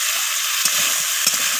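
Drumstick and flower vegetable curry is stir-fried in mustard oil, a steady close sizzle with two brief scraping stirs of the spatula breaking through.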